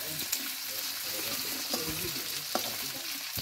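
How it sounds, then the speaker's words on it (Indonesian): Jengkol beans fry in a pan, giving a continuous close sizzle with occasional clicks and scrapes from stirring, set in a quiet village kitchen. "Bapak goreng jengkol."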